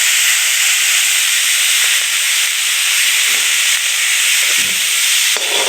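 Grated ginger and garlic sizzle in hot oil while a chicken box snack is being cooked, a loud, steady, close hiss that runs without pause and carries no voices.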